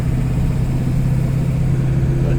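A Ford F-Super Duty OBS Powerstroke diesel engine hums steadily while driving at about 45 mph and 2,000 RPM, a loud, even low drone with constant road rumble and no change in pitch.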